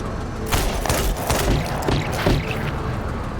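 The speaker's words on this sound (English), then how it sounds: "Can grenade launcher get the job done?" A grenade launcher in a video game fires in a rapid string of heavy thumps and blasts, loud and continuous over a thick, rumbling background of battle noise.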